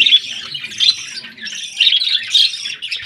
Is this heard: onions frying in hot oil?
no